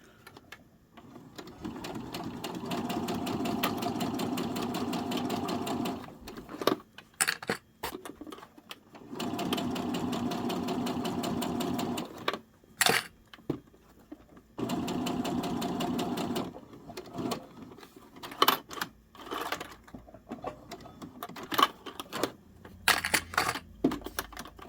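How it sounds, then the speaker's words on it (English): A sewing machine stitches a Valentine's Day beaded garland strung on twine, running in several steady bursts of rapid needle clatter separated by pauses and small handling clicks. "let me just get this lined up, drop my needle, and get sewing"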